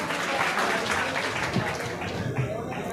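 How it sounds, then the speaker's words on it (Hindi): Audience applause welcoming a poet to the microphone at an All India Mushaira, a dense, steady wash of clapping from a large crowd filling the hall for the full length. "बुलंद तरीन ज़ोरदार तालियों से उनका इस्तकबाल करें।"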